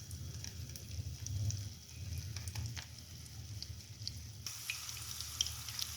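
Potato and coconut kebabs coated in egg fry in a pan with a steady, soft sizzle and faint crackle that continues evenly throughout, with no talking.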